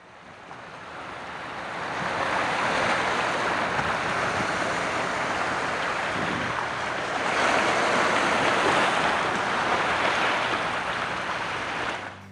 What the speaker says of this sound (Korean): 슬도는 일단 파도 소리부터 듣고 가야 한다.